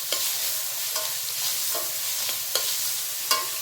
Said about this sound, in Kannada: ಚೆನ್ನಾಗಿ ಫ್ರೈ ಮಾಡಿಬಿಡೋಣ ಈರುಳ್ಳಿನ